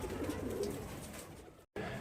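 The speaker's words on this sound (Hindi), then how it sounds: "अभी कोई 5-6 कबूतर तो जाल में है" Five or six pigeons sitting on a net coo close by, a soft, repeated low cooing over light background noise, with a short cut of silence near the end.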